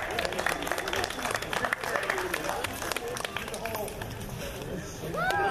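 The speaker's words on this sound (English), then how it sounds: "round of applause for the Doctor" An audience at a cosplay contest at a comic con claps for a contestant, a steady patter of many hands under an announcer's voice, with a few cheers rising near the end.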